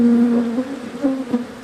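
Small recovered honeybee colonies buzz at an apiary, a close, steady insect drone lasting under two seconds with slight swells in loudness and no voices.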